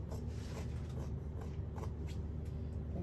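Scissors snipping through fabric along a curved radius to shape a handkerchief flare sleeve: a quick series of soft, close, crisp cuts and rustles in an uneven rhythm.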